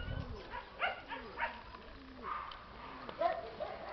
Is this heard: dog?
yes